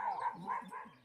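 A dog near a window gives a short, faint, whining bark of about a second, quiet and somewhat distant.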